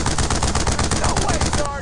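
Sustained automatic gunfire from the WWII shooter Brothers in Arms: Road to Hill 30, a loud, dense rattle of rapid shots filling the whole moment, with faint shouted voices mixed beneath.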